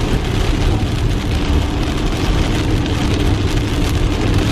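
Rain falling on a Tesla while it drives on a wet road in North Carolina, a loud, dense, steady patter and hiss over a low road rumble, with no voices.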